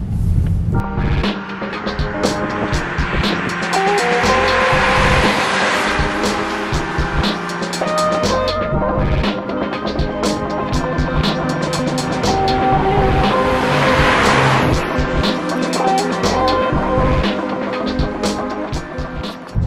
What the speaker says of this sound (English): So we'll do some drive-bys, of course, those are always fun